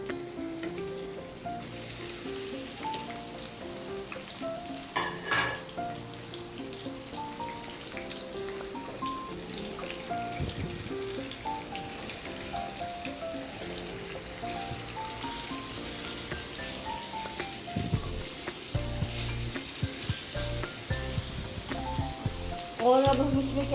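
Minced meat fries in a pan with a continuous soft sizzle and patter like rain, broken by occasional stirring scrapes and a few louder clanks late on.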